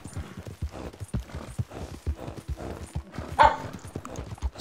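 Horse hooves clip-clop in the video game Red Dead Redemption 2, a rapid steady run of close, fairly loud hoofbeats with faint talk briefly underneath.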